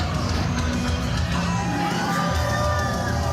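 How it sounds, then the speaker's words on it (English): Loud, dense crowd cheering and whooping at a pro wrestling event in Saskatoon, a steady roar of fans filling the whole stretch as a wrestler enters the ring. "he's going to soak in the cheers of these fans"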